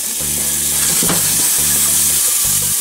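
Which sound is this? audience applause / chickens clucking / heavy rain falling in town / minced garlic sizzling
minced garlic sizzling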